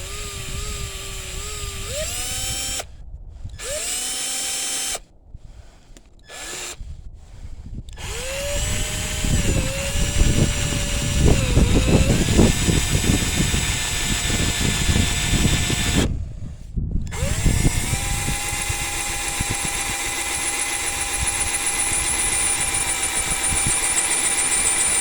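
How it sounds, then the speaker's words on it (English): Power drill boring a hole into the tail of a Nicholson steel file, whining motor that starts and stops several times, then a long loud grinding bite into the metal, close up. "So I can get up here in the tail and I can drill a hole"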